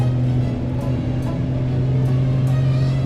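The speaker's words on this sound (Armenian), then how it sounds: "Ու հա, քշելու ընթացքում անդադ սրահի մեջ լսվում է շարժիչի ձենը" Inside a BMW X5 on the move, the engine hums as a steady low drone through the cabin, constant and fairly loud with faint road noise above it.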